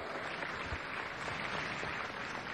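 Applause from an audience at a political party meeting in Caracas fills the clip as a steady, distant-sounding wash of clapping with no speech over it.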